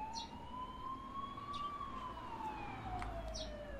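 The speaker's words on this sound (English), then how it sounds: "What's up with the ambulance?" An ambulance siren in a horror video game wails in a slow rising and falling tone, moderately loud and fairly distant, over low background rumble.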